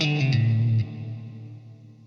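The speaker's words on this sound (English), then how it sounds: "Now the reverb is coming from the pedal itself." A sustained electric guitar note rings through a TC Electronic Infinite Mini pedal, then drops and trails off as a smooth, fading reverb tail, loud and close with no talking.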